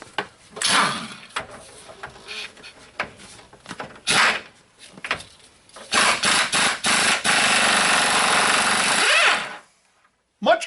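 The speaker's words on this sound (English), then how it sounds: "I have a 21mm socket, which was the appropriate socket. I got that and put a breaker bar on it." Steel idler arm nut on a 2002 Chevy 2500HD breaking loose under a 21mm socket and breaker bar, giving bursts of creaking, clanking and grinding metal with short pauses, then one long sustained ratcheting grind before it stops.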